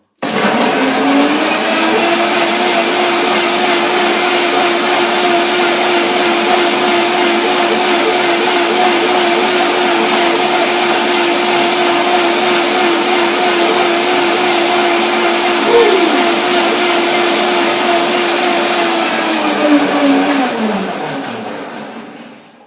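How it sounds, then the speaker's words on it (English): A blender whirs loudly and steadily for about twenty seconds while blending a macadamia cheese dressing, then its motor winds down at the end. "let's do the blender dance to find out if this dressing would also taste well"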